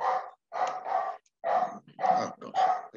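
Several dogs bark in quick, loud bursts close by, about six rough barks in uneven groups with short gaps and no talking.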